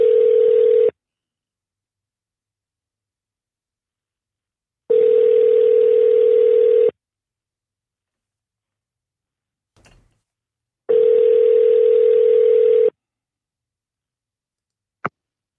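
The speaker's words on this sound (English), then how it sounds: "I'm gonna call it right now on the live." A telephone rings out on a call to a police department hotline: three steady electronic tone pulses, each about two seconds long and separated by silent gaps, plus a faint click and a final sharp tick.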